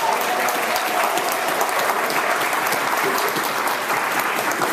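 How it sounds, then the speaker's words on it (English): Sustained audience applause for the hard-working staff at Howard Brown's 40th annual meeting, thick and steady throughout at a strong level. "A round of applause for the incredible hard working staff of Howard Brown."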